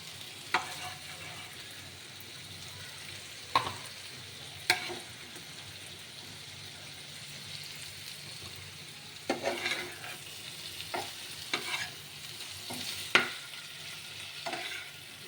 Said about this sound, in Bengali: সমস্ত ফুলকপি দিয়ে মাছটাকে মিক্স করে নিতে হবে